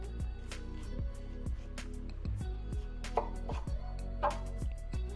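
A kitchen knife slices through an onion on a cutting board during a basic knife skills demonstration, with repeated close crisp cuts in a steady rhythm over a low steady background hum.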